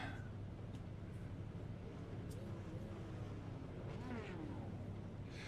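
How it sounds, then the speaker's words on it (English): Steady engine drone of a Porsche race car in a sim racing game, a continuous low rumble with rising and falling pitch sweeps as the car shifts and revs, constant loudness throughout. "It's pure car noise, and that's it, folks. Pure car noise."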